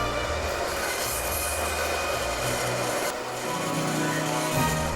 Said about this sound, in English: then I'll cut them on the bandsaw